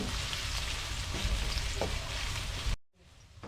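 Onion sautés in a hot pan while being stirred, producing a loud, continuous close sizzle with occasional scrapes before cutting off, followed by a quieter hiss.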